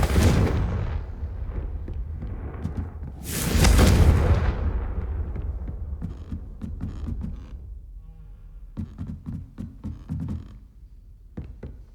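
A booming Confringo blast spell erupts in the Hogwarts Legacy video game, with a heavy explosive burst near the start and another loud roaring blast a few seconds later, followed by rumbling game sounds and softer thuds.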